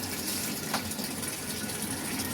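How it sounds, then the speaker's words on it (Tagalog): Water gushing and splashing as it spills out of an automatic washing machine during cleaning, a steady hissing pour with a brief louder splash near the start, fairly faint and without talk. "Yan, ito natapon niya yung tubig."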